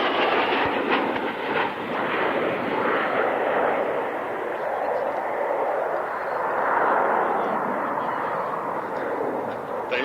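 A military jet makes a low attack pass at the Fairford airshow, a loud, broad roar that swells, eases slightly, then rises again across the whole pass, with crowd and commentary murmur beneath.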